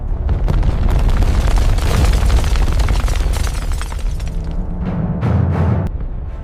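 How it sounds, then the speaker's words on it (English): Colossal volcanic explosion of Mount Vesuvius as a sound effect, a loud sustained rumbling boom with crackling bursts, easing slightly before a final heavy blast. "A colossal explosion rips through the stratosphere."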